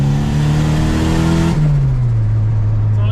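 Boosted Honda Accord engine revving hard on a dyno, a loud rising harmonic drone that peaks then drops in pitch as it winds down, with faint voices underneath.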